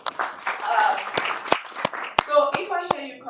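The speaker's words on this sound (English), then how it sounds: "A round of applause, please." Audience at an Africa semiconductor investors forum gives a short round of applause, with scattered hand claps and some sharp individual claps standing out, fairly close and moderately loud.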